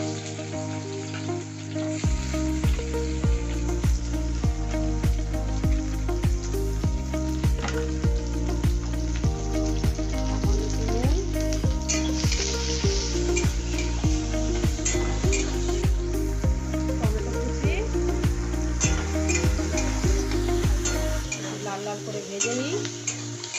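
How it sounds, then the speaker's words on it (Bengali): A loud, steady sizzle of onions and dried red chillies frying in hot oil continues throughout, under background music, with occasional stirring clinks near the end. "তেল গরম হয়ে গেছে শুকনো লঙ্কা দিয়ে দিলাম পেঁয়াজ দিয়ে দিলাম"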